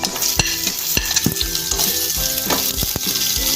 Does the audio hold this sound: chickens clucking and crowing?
no